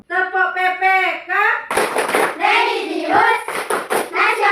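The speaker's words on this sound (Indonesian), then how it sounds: "Tepuk PPK." Schoolchildren perform the Tepuk PPK, a rhythmic group clap in an Indonesian primary classroom: a sung chant opens, then loud, patterned bursts of clapping alternate with shouted group chanting.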